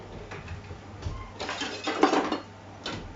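A whisk beats a mixture in a bowl in quick bursts of rattling, scraping strokes against the sides, close and moderately loud, with no talking.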